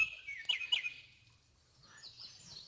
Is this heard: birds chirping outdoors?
yes